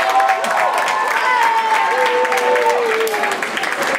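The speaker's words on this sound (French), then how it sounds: "On l'applaudit bien fort." An audience at a school math conference closing ceremony claps loudly for a student, a dense burst of applause with a few cheers and whistles rising over it.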